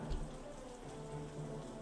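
Steady rain falls during a battle scene in the video game Banner of the Maid, a faint, even patter with a low rumble, continuous and without voices.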